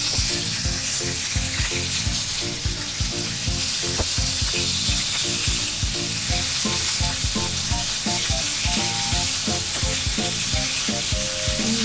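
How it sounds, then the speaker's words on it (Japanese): Pork steak (tonteki) sizzles and crackles loudly and continuously in a hot oiled frying pan, with dense spattering pops throughout and no voices. "お肉を焼いていきます"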